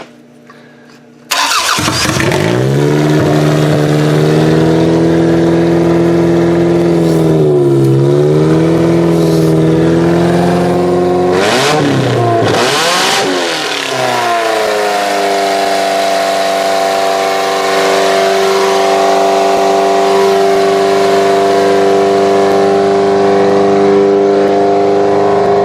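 A 2001 Camry engine swapped into a 1994 Camry wagon cranks and fires up at about 1 s, then runs loud and close, with revs rising and falling around 8 s and again near 12–14 s before it settles into a steady, higher idle.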